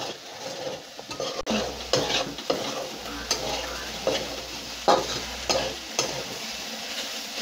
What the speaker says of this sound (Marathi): कमी गॅसवरच आपल्याला हलवायचं